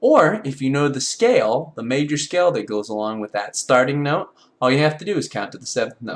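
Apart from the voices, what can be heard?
None of the usual background noises is heard.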